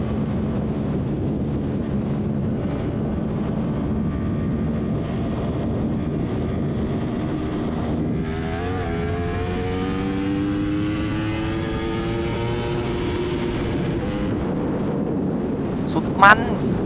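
A Yamaha YZF R1 sport motorcycle, freshly fitted with a new chain and sprocket set, pulls hard through second gear, its engine note climbing steadily in pitch as revs rise, loud and close with steady wind roar and a brief sharp sound near the end.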